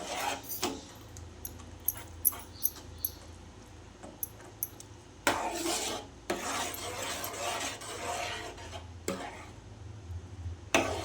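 Grated fresh coconut being stirred in a pan for coconut rava kesari, giving repeated dry scraping and rasping strokes with sharp clicks of the utensil, close and moderately loud with no talking.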